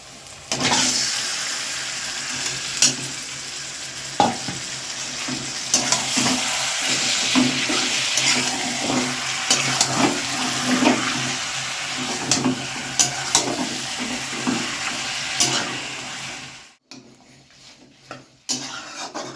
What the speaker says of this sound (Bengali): এবারে মাংসটা তুলে কড়াইতে দিয়ে দেবো।